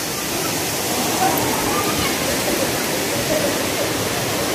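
Dara Falls sends up a loud, steady, full-bodied roar of falling water that fills the scene without a break, close and unchanging throughout.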